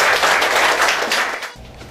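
Loud, dense applause from an audience welcoming a speaker at a Korean gathering, a close wash of clapping that thins out and fades toward the end.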